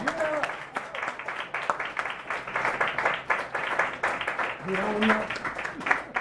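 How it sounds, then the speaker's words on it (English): A roomful of people claps for the presidential directors at an Atlanta launch event. The clapping comes in uneven bursts, with voices calling out and chatting through it. "Give them a round of applause"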